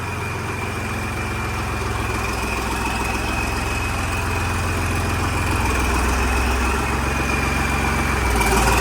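A heavy tractor engine idles steadily and loudly throughout, a low, continuous rumble with no voices.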